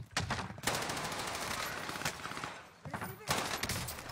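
Rapid bursts of automatic gunfire in Call of Duty Warzone on the Caldera map, loud and near, with dense rattling volleys filling most of the stretch, a brief lull, then more shooting; a voice is faintly under the fire.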